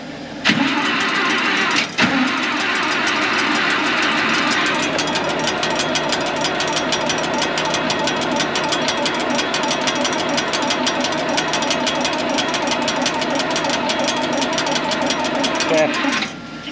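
A tractor engine on full choke cranks briefly, then catches and runs steadily at a loud, continuous idle in a snowy setting, with speech over the engine.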